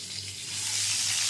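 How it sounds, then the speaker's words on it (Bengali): Potato pieces fry in hot oil seasoned with salt and turmeric, giving a steady, close sizzle that builds slightly in loudness with no talking. "লবণ হলুদ দিয়ে আলুটা ভেজে নেব।"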